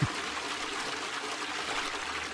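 Water rushing and trickling steadily from a video game toilet flush, a continuous moderately loud gurgling wash after a brief onset, with no talking.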